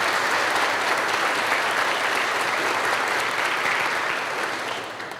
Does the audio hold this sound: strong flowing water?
no